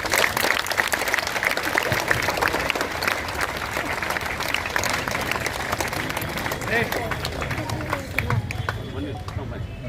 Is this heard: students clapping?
yes